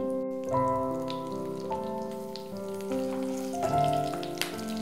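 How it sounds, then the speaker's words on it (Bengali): Black cumin seeds and green chillies hit hot oil in a pan, producing a continuous fine crackling sizzle that sits beneath steady background music, with no talking. "ওয়ান ফোর্থ চা চামচ কালো জিরে ফোড়নের জন্য। একই সঙ্গে দিচ্ছি কাঁচা লঙ্কা"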